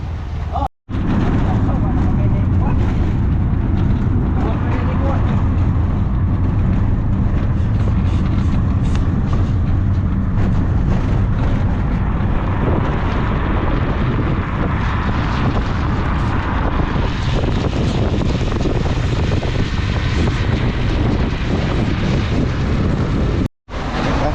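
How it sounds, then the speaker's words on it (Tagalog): Heavy rain at an outdoor market in Ormoc, a dense, continuous loud roar of downpour lasting throughout, with traffic noise mixed in. "Malakas yung ulan."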